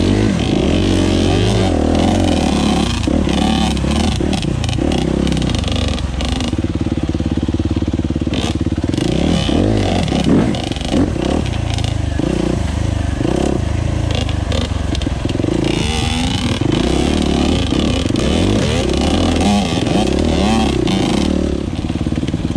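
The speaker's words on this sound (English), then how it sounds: "with a perfectly placed rev of the engine, up he bounced and over he went" Motocross bikes, a Suzuki RMZ250 and a Yamaha YZ85, ride an uphill enduro trail with tree roots, the two-stroke and four-stroke engines revving hard and loud in repeated bursts, with rattling and clatter throughout.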